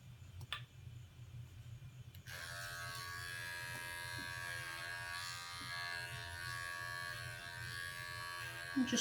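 Electric clippers switch on with a sudden steady buzz partway through and keep running close by while trimming the fur along a pet's leg, after a few soft handling sounds.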